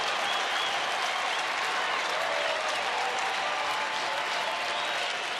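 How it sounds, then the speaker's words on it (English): A baseball stadium crowd at a Rangers home game applauds steadily, a dense and loud wash of clapping and cheering that holds for the whole stretch with no break. "Put their hands together for Joakim Soria and the Rangers."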